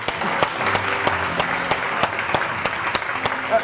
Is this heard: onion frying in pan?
no